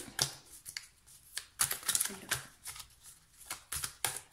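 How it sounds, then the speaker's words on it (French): Tarot cards are handled and laid down during a reading, a series of soft, close shuffling and slapping card sounds in irregular bursts. "Je vais recouvrir quand même la carte du fou."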